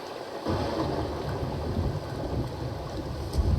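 Thunderstorm in the survival game Sons of the Forest: heavy rain hisses steadily after a quiet start, with a low rolling rumble of thunder underneath, continuous and fairly loud.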